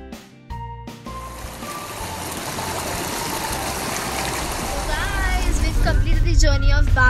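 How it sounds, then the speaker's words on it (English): A waterfall near Gangtok pours in a steady, loud, broadband rush that swells slightly toward the end, with voices and other tonal sounds faintly mixed in. "The waterfalls are amazing."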